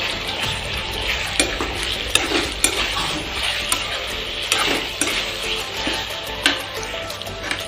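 Ginger garlic paste is stirred into frying food for a sagoli mankho dish, a steady sizzle under repeated scraping and clinking of a utensil against the pan at an uneven rhythm.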